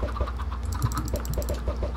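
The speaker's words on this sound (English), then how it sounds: "Like, I keep hearing chickens!" Chickens clucking in the Minecraft video game, several short, repeated clucks close by, layered over a steady low hum with light clicking like keyboard typing.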